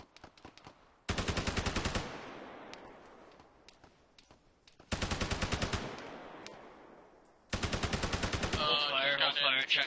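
Three long bursts of rapid automatic gunfire ring out through trees, each loud and sharp, separated by quieter gaps with distant crackling shots, followed by a garbled radio-like voice at the end.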